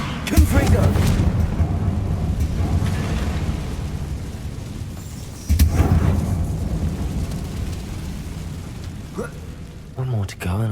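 Fiery Confringo blasting spell going off in the Hogwarts Legacy video game, with loud booming bursts near the start and again around the middle over a rumbling game soundscape, then a brief voice near the end.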